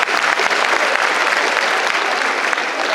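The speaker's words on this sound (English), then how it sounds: "Give them a big round of applause." An audience at a school program event breaks into loud, sustained applause, dense clapping that holds steady from start to finish.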